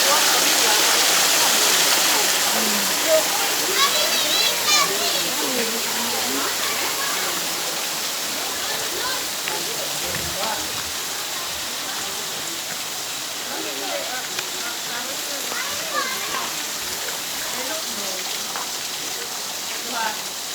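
Water rushes in a steady, dense roar near a bridge, loud and continuous throughout, with faint voices now and then beneath it.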